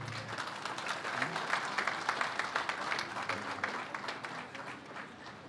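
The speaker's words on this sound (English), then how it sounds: "A warm applause, please." Warm crowd applause at a Philippine National Police retirement honors ceremony, sustained dense clapping from a large audience, even and moderately loud throughout.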